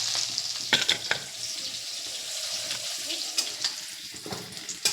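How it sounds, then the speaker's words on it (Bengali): Potatoes fry in hot oil in a pan with a steady bright sizzle, broken by a few sharp spatters and stirring scrapes, close and with no speech. "এবারে আলু ভেজে নেব।"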